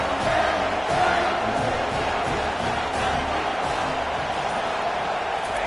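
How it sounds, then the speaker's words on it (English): Loud, steady roar of a large football stadium crowd during a game, a dense wash of voices swelling slightly near the start and holding constant throughout. "listen to the roar of this crowd"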